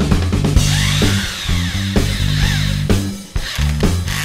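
A power drill drives 2-inch screws into wood: a loud, close motor whine rising and falling in short bursts, with brief stops between runs.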